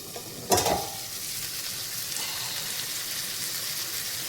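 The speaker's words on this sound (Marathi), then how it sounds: "असं पाणी सुटते तेल येतं बघा वर चांगलं फ्राय झालं ना" Soybean chunks sizzle and crackle steadily in hot oil, close up, with a sharp clank of a utensil near the start.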